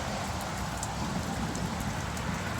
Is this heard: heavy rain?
yes